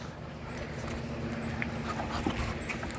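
Three puppies, a Patterdale and Staffordshire terrier cross among them, play together with faint scuffling, soft whimpers and panting under a steady background.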